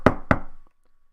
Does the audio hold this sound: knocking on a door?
yes